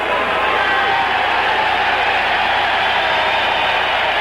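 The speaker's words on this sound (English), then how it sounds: "Terry Daniels being cheered by the crowd." A boxing crowd cheers for fighter Terry Daniels, a steady roar of voices and applause from a packed arena. It holds at constant loudness throughout, with a commentator's voice under the din.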